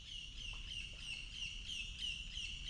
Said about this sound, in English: that's a little bird for a big noise